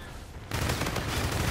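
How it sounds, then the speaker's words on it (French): Automatic gunfire from the first-person shooter game Infinite Warfare erupts suddenly after a quiet moment, a dense continuous burst of rapid shots with a rumbling low end. "Faut juste de faire des tirs au jugé"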